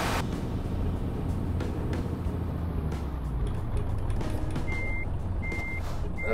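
Reversing beeps from a truck in Euro Truck Simulator 2 sound as a steady series of high electronic pulses, starting partway through over a constant loud engine rumble with no talk.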